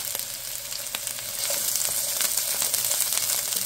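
Chopped onion and jalapeño peppers fry on a stovetop, giving a steady, close hiss with scattered pops and crackles that grows a little louder partway through; no one speaks.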